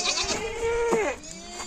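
A goat bleats loudly and close by, a single wavering call with a rising and falling pitch, heard outdoors on a farm in frosty winter weather.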